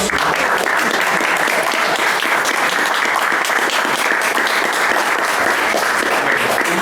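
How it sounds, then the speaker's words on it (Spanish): A crowd gives dense, sustained applause for two magazine illustrators at a tribute event, a loud and even wash of clapping throughout. "Yo les pido un aplauso para ellos."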